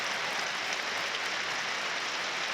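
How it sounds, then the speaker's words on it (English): Broad, fairly distant applause spreading around a football stadium during a Sunderland versus Plymouth Argyle match, a steady wash of clapping with no talk over it. "Spontaneous round of applause breaks out around the stadium"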